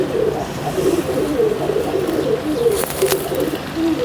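A pigeon cooing nearby, soft low rolling coos repeating steadily over faint background noise, with a brief rustle partway through.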